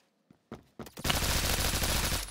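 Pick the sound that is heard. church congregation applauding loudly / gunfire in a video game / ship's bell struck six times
gunfire in a video game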